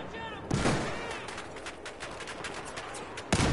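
Gunfire in Battlefield 4 Hardline, with a loud close shot, then a steady crackle of rapid distant shots, and another loud close shot near the end.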